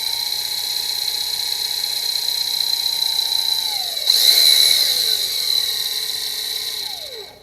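A power drill bores out piston holes in a model kit, giving a steady, close, high-pitched whine that turns harsher and louder midway before spinning down at the end, with no talking.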